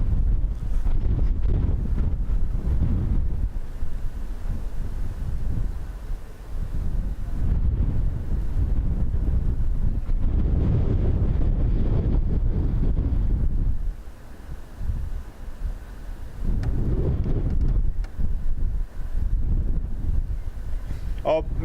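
Wind buffets a small camera microphone on a rooftop at a Dublin Airport plane-spotting spot, a loud continuous rumbling roar that swells and eases in gusts, with no talking.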